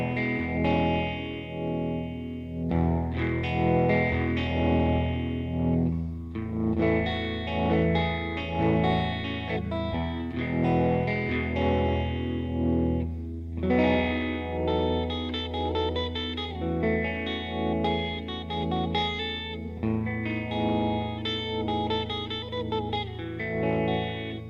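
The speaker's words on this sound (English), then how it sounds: "This patch has a panning tremolo and a plate reverb" Electric guitar run through a pedal patch with panning tremolo and plate reverb, playing sustained chords and notes with pulsing stereo movement and a lush, washy tail, loud and continuous with no talking.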